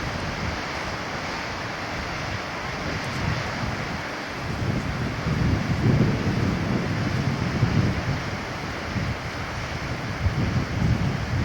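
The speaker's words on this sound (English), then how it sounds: "The waterfall is so long I can't even get it all in the viewfinder" Steady rushing roar of a waterfall, a broad continuous wash of falling water that swells slightly midway, with no talking.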